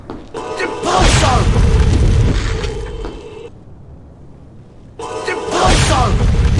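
Spell effects from the Harry Potter 4 video game: a loud booming, whooshing magical blast with a thudding low end runs for a few seconds, drops to a quieter lull, then a second burst erupts near the end.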